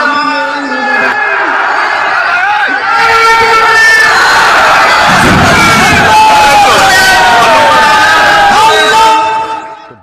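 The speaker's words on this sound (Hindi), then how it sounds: "भीड़ देखिए, लोग छतों पर, खिड़कियों पर, बालकनी में," A large crowd packed onto rooftops, windows, balconies and trees roars loudly and continuously, with overlapping shouts, cheers and chanting voices close by.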